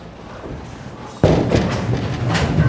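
A bowling ball hits the pins for a strike at a televised bowling championship, with a sudden loud crash followed by the rattling clatter of falling pins echoing in the lane.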